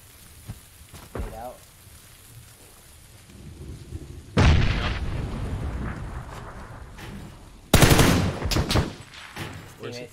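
Gunfire in the PUBG first-person duos battle royale shooter: two loud, dense bursts of rapid shots ring out midway and near the end over quieter game ambience, with a player's voice talking faintly at times.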